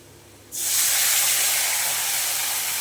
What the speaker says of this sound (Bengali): এবার টমেটো পেস্টটা দিয়ে ভালো করে কষিয়ে নেব।